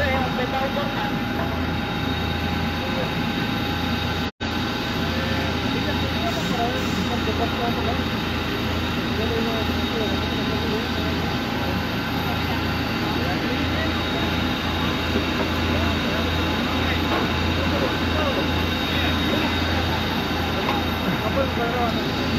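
Steady, loud roar of a Volaris airliner's engines fills the cabin throughout, a continuous low rumble with no letup, with no one speaking over it.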